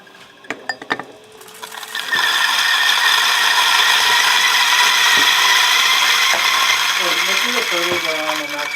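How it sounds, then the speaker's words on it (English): A Timemore 078 coffee grinder at maximum RPM grinds 12 grams of beans: a few sharp clicks and rattles, then a loud, steady, high-pitched whirring grind that continues to the end. "We gotta put the mic so people can hear what the grinders sound like."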